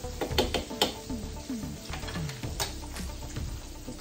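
Pork chops frying in a pan on a home stovetop, a steady crackling sizzle with scattered sharper pops and light clatter, close and moderately loud throughout.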